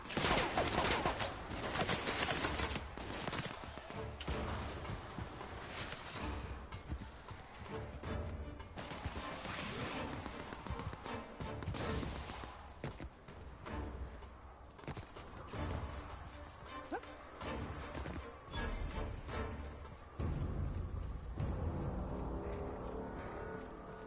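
Sustained gunfire in a firefight in the video game The Outer Worlds, a dense, loud barrage of rapid shots and impacts layered over each other for the whole stretch with hardly any pause.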